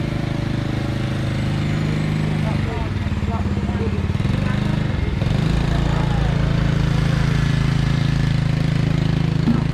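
A scooter heavily loaded with turnips rumbles past on a rural Vietnamese road, its small engine droning steadily and rising as it passes close by while someone talks over it.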